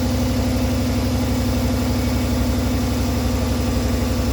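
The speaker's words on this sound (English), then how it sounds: "Here's the engine running. Far less noisier than before" A 1991 Ford F-150 engine idling after an exhaust repair, a steady, even low rumble with a fast regular pulse, loud and close throughout with no voices.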